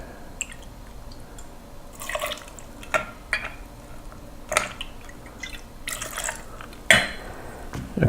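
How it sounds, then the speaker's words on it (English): Vermouth poured into a cocktail shaker, heard as a series of soft, close drips and short liquid splashes that come in irregular bursts against a quiet background. "we're going to add 2 ounces of vermouth to the shaker"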